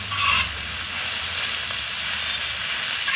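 Vegetables for veg chow mein, already mostly boiled, sizzle in a hot pan with a steady bright hiss and a slight louder flare at the start, with no voices.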